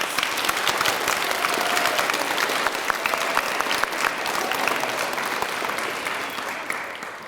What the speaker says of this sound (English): why don't we give Officer Sherritts a nice big round of applause